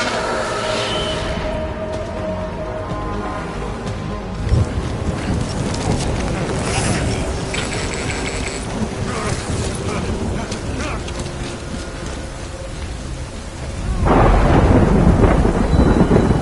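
Rain falls heavily in the video game Death Stranding while thunder rolls and rumbles, ending in a louder, closer crash of thunder.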